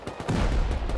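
Rapid gunfire in a first-person online survival game bursts in quick, dense shots, followed by a heavier rumbling barrage that sounds fairly close.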